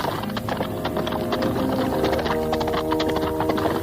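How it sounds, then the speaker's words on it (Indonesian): Horse hooves gallop fast in a steady rapid clip-clop, loud and continuous under a musical score throughout. "Seekor kuda berlari dengan cepat sekali."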